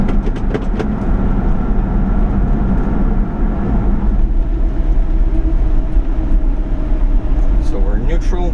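A 1991 Subaru Sambar Super Deluxe 4WD kei truck drives on the highway with a steady, rumbling engine and road drone. Someone talks over the noise throughout.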